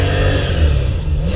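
A Porsche 904 with a 3.6 engine pulls hard uphill, a loud, close, sustained engine roar with a rising tone and no voices over it.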